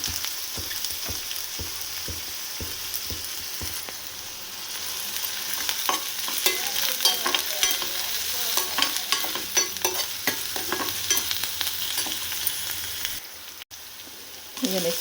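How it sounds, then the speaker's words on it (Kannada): Onions fry in oil in a pan for a homemade gobi manchurian, a continuous sizzle broken by repeated scraping and stirring strokes of a spatula, close and fairly loud. "ಆಯಿಲ್ ಹಾಕ್ಕೊಂಡು ಈರುಳ್ಳಿ ಹಾಕ್ಕೊಂಡು ಮತ್ತೆ ಫ್ರೈ ಮಾಡ್ಕೊಳ್ಳೋಣ"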